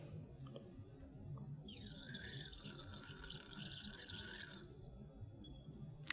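Liquid trickling from an opened burette stopcock into a glass beaker during an acid-base neutralisation setup, a thin steady stream lasting a few seconds, quiet and close, with no speech.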